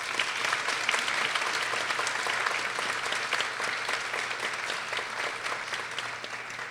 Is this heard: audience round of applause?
yes